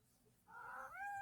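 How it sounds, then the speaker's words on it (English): A domestic cat lets out a single drawn-out meow close by, rising and then holding steady over a quiet room background, with no talking. "that's my cat, by the way."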